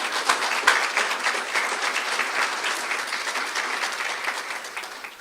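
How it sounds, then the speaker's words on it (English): An audience at a university nursing school's senior recognition ceremony breaks into loud, sustained applause, many hands clapping together and close, gradually tapering off toward the end. "If you want to give these folks one round of applause"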